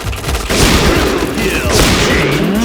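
Gunfire rattles in the video game Point Blank, loud rapid bursts and overlapping shots at close range, with someone talking excitedly over them.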